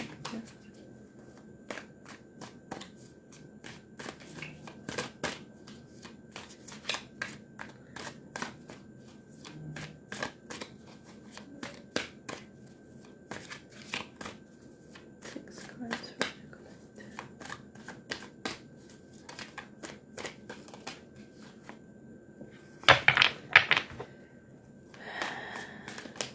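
Tarot cards being shuffled by hand, quick papery riffles and soft taps repeating in irregular bursts, close and quiet, with a louder flurry near the end.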